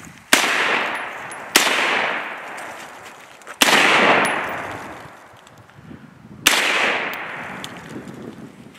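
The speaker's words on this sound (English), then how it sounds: "now I'm going to take a few shots out at 50 yards" Four loud gunshots ring out one at a time at a shooting range, aimed at targets 50 yards away, each sharp crack followed by a long echoing decay.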